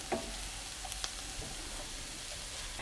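Vegetables sauté on a stovetop pan with a soft, continuous low sizzle, a few faint clicks of stirring scattered through, heard alone and fairly quiet.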